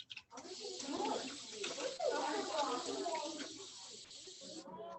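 A steady hissing pour of cold water from a cup into a vessel during a gas-law demonstration, running for several seconds at a moderate, close level before tapering off at the end.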